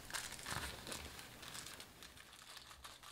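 A small plastic bag holding an Allen key crinkles as it is opened during the unboxing of a Glarry GT501 acoustic guitar, giving close, steady rustling with a few sharper crackles.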